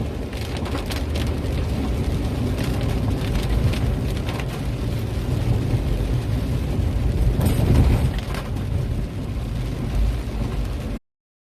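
Heavy rain pours on a slick road during a drive from Palembang to Lahat, a dense hiss of spray and drumming mixed with tyre and engine rumble, loud and continuous before cutting off abruptly.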